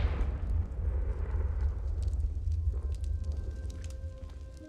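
Fiery Confringo spell explosion from the Hogwarts Legacy video game, a sustained roaring blast with heavy low rumble that rolls on for several seconds and slowly fades, with faint crackles on top and no talking.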